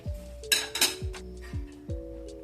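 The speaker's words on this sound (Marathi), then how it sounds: "आणि आता याच्यावर झाकण ठेवूया" Metal clanks and clinks as a lid is set on a pot, a few separate knocks with faint ringing in between.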